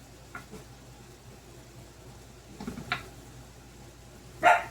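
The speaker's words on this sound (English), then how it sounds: "if my dogs bark, I apologize" Dogs barking at a home kitchen as farmers come and go, a few short, fairly distant barks spread across a quiet moment, the last one louder, under faint background noise.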